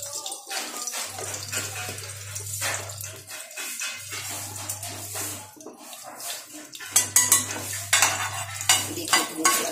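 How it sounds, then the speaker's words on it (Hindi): A spoon of ghee goes into a cooking pot on a gas stove, with clinks and scrapes of metal cutlery against the pot among steady background kitchen noise. "अभी हम बर्तन में एक चम्मच घी ले लेंगे,"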